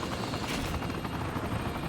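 A helicopter in the PS2 game The Bouncer thrums steadily and loudly, a dense rotor wash with rapid chopping pulses and no voices over it.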